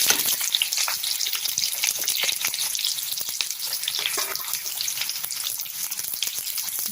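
Sliced onions hitting hot oil with popped mustard seeds, for a Madurai-style egg varuval, give a steady, dense sizzle with fine crackling throughout, fairly close and continuous, with no voices.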